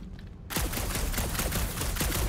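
Rapid gunfire blasts at rock in Marvel's Guardians of the Galaxy, a dense, loud stream of shots that bursts in suddenly after a quiet moment and keeps going steadily.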